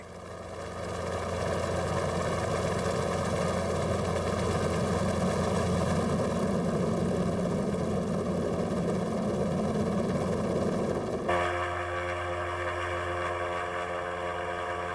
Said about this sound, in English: James ballasts the airship, Mike fires up the engines